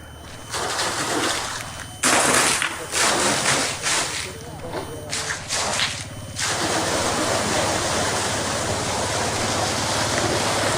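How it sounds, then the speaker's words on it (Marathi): A Dynamecch 3 HP solar water pump with a 30-metre head runs and sprays water, a loud continuous rushing gush with someone talking over it for the first few seconds. "तो अशा पद्धतीचा पाणी आपल्याला मारताना दिसत आहे"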